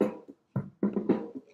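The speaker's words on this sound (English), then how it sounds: "this little tabla overdub that I did from one of his cool samples" A few resonant tabla strikes, low and ringing with a couple of quicker taps between them, played alone.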